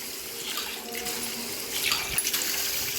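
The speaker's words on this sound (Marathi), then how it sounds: "8 वाट्याचे आपण तांदूळ घेतलेले आहेत ना, ते आपल्याला असे धुवून घ्यायचेत खमंगसाठी, म्हणजे ढोकळा बनवण्यासाठी." Rice being washed under running water for making dhokla, a steady close splashing and trickling wash of water with soft swirling surges.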